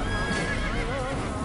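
A horse neighs loudly in Assassin's Creed over a dense, continuous game soundscape, with hoof clatter and busy background noise throughout.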